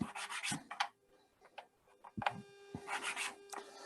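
Light sanding rubs fuzz off the underside of a wooden segment for a segmented turning, heard as close, soft scratchy strokes in irregular bursts with a few sharp taps between them.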